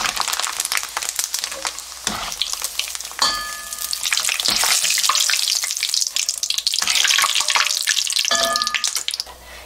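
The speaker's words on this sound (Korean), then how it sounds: "이렇게 들어가면요 순식간에 튀겨야 되거든요" Seaweed sporophyll (miyeokgwi) dropped into hot oil for deep-frying, a loud continuous sizzle and crackle with several fresh bursts as new batches hit the oil, close up and without talk.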